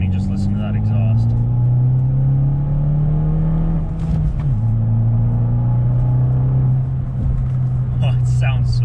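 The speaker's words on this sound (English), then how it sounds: "just listen to that exhaust" A Fiat 500 Abarth's exhaust rumbles loudly and steadily, its note rising through revs and dipping briefly near the middle before settling into a strong, sustained drone, close by with no talk over it.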